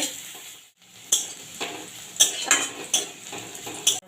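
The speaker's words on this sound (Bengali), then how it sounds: "আদা রসুন পেঁয়াজ যতক্ষণ না হালকা করে কালার ধরছে ততক্ষণ না আমি ভেজে নেব" Chopped ginger, garlic and onion fry in a pan for a lentil dal, with a soft sizzle under repeated metal utensil clinks and scrapes, several sharper knocks toward the end.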